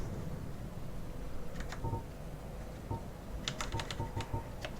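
Keys clatter on a computer keyboard while key settings are being changed: sparse clicks at first, then a quicker cluster of taps over a steady background hiss.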